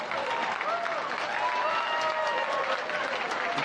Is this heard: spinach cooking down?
no